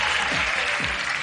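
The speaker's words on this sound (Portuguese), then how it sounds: "Cadê os aplausos dela, minha gente?" An audience breaks into steady, dense applause for guest Evelyn Jordão, a journalist, writer and podcast host, on a talk show. The clapping is even and sustained from start to finish, with no talking.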